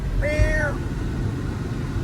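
A cat gives a single short meow, rising then falling, close by over a low background rumble.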